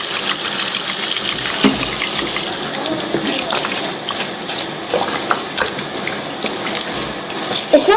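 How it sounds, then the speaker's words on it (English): Water spraying from a shower hose during a dog's bath, a steady hiss and splash at close range with small knocks and shifts in the flow, under occasional talk. "It's not too much spraying out of this, but it's like a shower"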